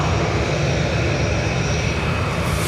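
Engines of a Qatar Airways Boeing 787 at Dublin Airport give a short, steady, dense roar that stays close and unbroken from start to finish.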